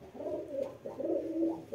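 Makoya pigeon cooing close by, a soft low rolling coo repeated two or three times in quick succession, alone without talk.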